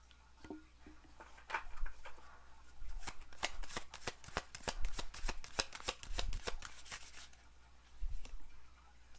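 Rapid riffling of playing cards, a dense burst of crisp flicks repeated in several bursts, close and alone with no talking.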